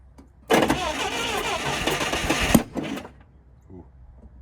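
An old auction forklift engine cranks hard for about two seconds with a rattling, churning tone, then cuts out and leaves only faint knocks and quiet background.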